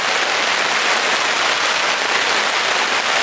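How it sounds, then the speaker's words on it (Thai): Steady, dense patter of rain drumming on a tent, a continuous hiss with no pauses and no voices. "เดี๋ยวตอนนี้ก็นั่งชมบรรยากาศเสียงฟังเสียงฝนตกไปก่อนนะ"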